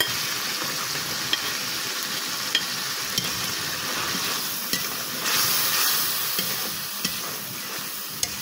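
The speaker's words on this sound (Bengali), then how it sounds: "এবার মশলাগুলো ভালোভাবে কষিয়ে নিতে হবে।" Onions and spices for a chicken and jackfruit curry fry in a pan with a loud, steady sizzle and hiss, broken by a few faint stirring clicks.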